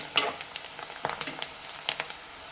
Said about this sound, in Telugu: పసుపు కూడా మంచి ఆయిల్లో మంచిగా వేపుకోవాలి